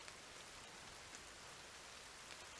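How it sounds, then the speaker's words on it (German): Steady rain in the survival video game The Forest, an even wash of falling drops with no talk, continuous and moderately distant throughout. "Mann, es ist Regen."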